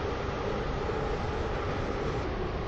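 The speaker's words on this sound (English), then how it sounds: "This train terminates here." Roblox train pulling into a station on a railway line, a steady, loud rumble of wheels and motor running throughout with no clear stops or announcements.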